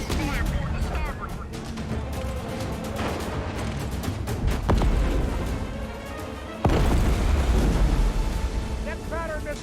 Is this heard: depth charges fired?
yes